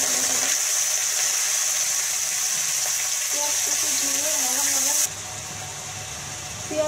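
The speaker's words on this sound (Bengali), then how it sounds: "তেলটা গরম হয়ে গেছে, তেলের ভিতর আমি দুইটা তেজপাতা, লবঙ্গ, এলাচ, দারচিনি দিয়ে দেব।" Bay leaves, cloves, cardamom and cinnamon crackle in hot oil with a busy, fairly close sizzle that drops suddenly to a quieter hiss partway through, with light stirring and clinks underneath.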